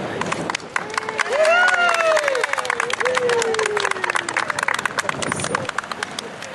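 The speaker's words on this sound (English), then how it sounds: "we want to give you a big round of applause as you cut this ribbon" Applause from a gathered crowd at a ribbon cutting for a new business venture in Tullahoma, a patter of clapping that runs throughout, mixed with sliding whistle-like tones and bird-like coos.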